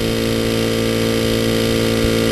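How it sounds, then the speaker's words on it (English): A steady mechanical drone from an air compressor driving a power float used on a horse's teeth, continuous and fairly loud with even tone throughout. "The tool Dr. White is using is powered by an air compressor, so I'm sure you're hearing that"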